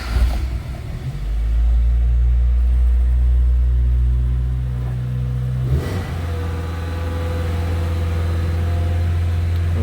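A small engine on an Indian Samurai fires up and settles into a steady low, close idle after a louder revving start, with a brief surge near the middle before running on evenly.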